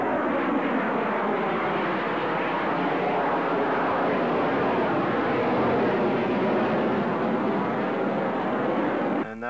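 An F-111E jet takes off directly overhead at RAF Upper Heyford in Oxfordshire, a loud, sustained roar that fills the whole stretch and cuts off abruptly at the end.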